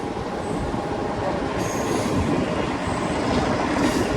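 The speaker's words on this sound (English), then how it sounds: "as the train keeps going along" NKP 358 special passenger train rolling steadily along, with continuous rumbling wheels, clattering rail noise and intermittent high wheel squeals, heard close and loud with no talking.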